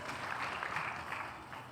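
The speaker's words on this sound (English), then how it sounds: "Give him a big round of applause" A crowd at a career guidance event gives a steady round of applause, a dense patter of many hands heard faintly and at a distance, with no talking.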